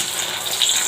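Fish roe fritters hit hot oil in a pan and start frying with a broad, hissing sizzle, loud and close.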